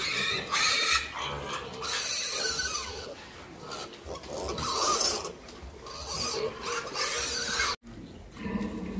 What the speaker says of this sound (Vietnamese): Đây là đàn heo của mình ngày thứ 5 nè các bạn.